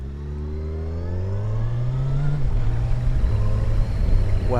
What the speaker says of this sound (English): Got a nice sound to the engine.